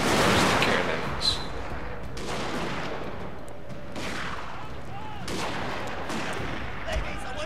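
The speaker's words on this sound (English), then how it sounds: "Yep, there's the cannons." Cannon artillery fires in a Shogun 2 Total War battle of Toba-Fushimi, 1868, with a loud opening blast followed by repeated booms and scattered gunfire crackling across a noisy battlefield.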